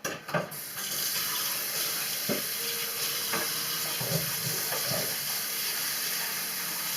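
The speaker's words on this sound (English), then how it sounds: "Rinse the bowl. Rinse the knife. Rinse the peppers." Water runs steadily from a kitchen tap while a bowl, knife and green peppers are rinsed under it, a continuous close hiss broken by occasional splashes and knocks, with no talking.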